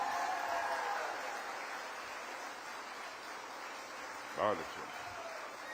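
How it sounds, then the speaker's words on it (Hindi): An audience stands and applauds two children at the inauguration of a defence equipment and drone manufacturing unit in Gautam Buddh Nagar, Uttar Pradesh. The applause is a sustained wash of clapping, and one voice briefly speaks over it near the end. "एक बार इन दोनों बच्चों को खड़े होकर तालियां बजाकर आप लोग अपनी शुभकामनाएं दें।"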